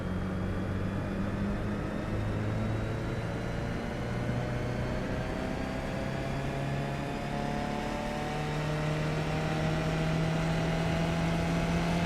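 A race car engine in the iRacing sim at the Montreal circuit whines steadily upward through a gear, a smooth rising drone with harmonic layers, loud and continuous with no talk.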